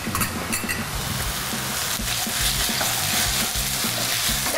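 Onion and tomato paste fry in a pan while being stirred, giving a steady, close sizzle with repeated scraping strokes throughout.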